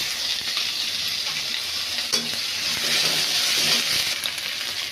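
Garlic and ginger paste frying with vegetables in a little oil for a Chinese-style dish, giving a steady, close sizzle with stirring scrapes throughout and no talking.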